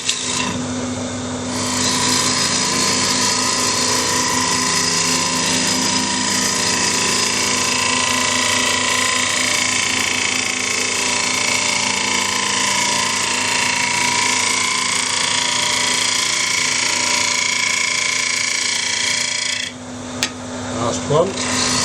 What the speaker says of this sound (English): one more pass with the gouge should sort that out